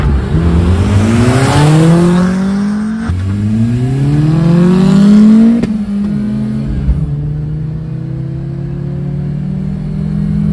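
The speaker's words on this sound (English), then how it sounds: "This is how bad my RAV4 is. I'm still not up to 60 yet." A 1997 Toyota RAV4 with a swapped 3S-GTE turbo engine pulls hard through several gears, each rising engine note cut by a shift, loud and close, then easing to a steadier cruise.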